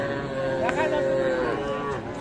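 A young crossbred bull calf at a busy rural cattle market lets out a drawn-out, wavering moo, close and loud over a murmur of background crowd noise.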